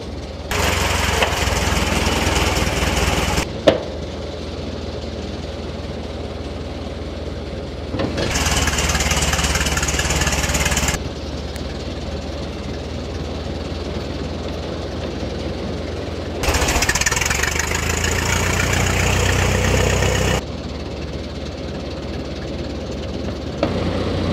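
A 1914 Metz Model 22 car runs with its engine alone, a rough, steady rumble that swells loud in three long bursts, as if revving while reversing, and drops back to a quieter idle between them.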